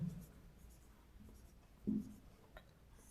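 Chalk or marker scratches across a classroom board as a heading goes up during a maths lesson, a faint, close scraping with a couple of slightly louder strokes over a quiet room hum.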